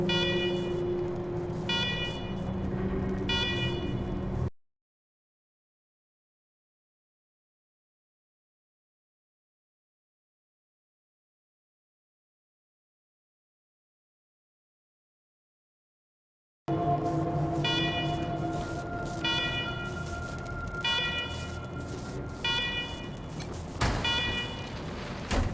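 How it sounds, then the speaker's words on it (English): Blaring alarms in the video game Wasteland 3, a loud buzzing, pulsing electronic tone with regular repeating bursts, heard for several seconds, cut off by a long silent gap, then returning just as loud. "let's talk after you kill the alarms. I can hardly hear myself think."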